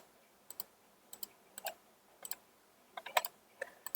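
Sharp, quiet computer mouse clicks come in small pairs and clusters, with short pauses between them, close up in a quiet room.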